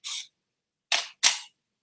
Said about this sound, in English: Hear that lag? So if you ever hear your camera doing that lag